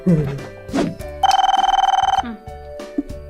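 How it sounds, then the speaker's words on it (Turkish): A telephone bell rings in one rapid, trilling burst, close and loud, with brief voice sounds around it. "Telefon çaktı."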